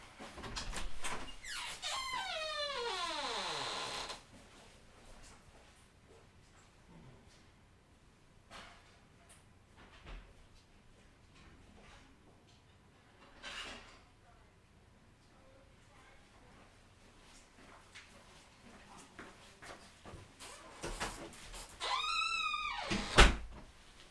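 A squeaky door in a home kitchen creaks open with a long rising-and-falling whine, followed by quieter shuffling and clatter, then squeals shut with a sharp high squeak and a thud at the end.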